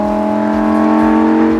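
Lamborghini Huracan EVO RWD Spyder with a V10 engine, revving steadily and loud, close by, a sustained tonal engine note with no talk.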